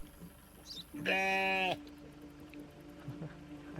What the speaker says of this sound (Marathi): ए, बकऱ्यांचा आवाज काय येतो इथं? बकऱ्या घेऊन चाललाय.